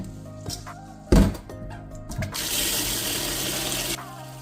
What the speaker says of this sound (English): Then I'm going to add enough water again.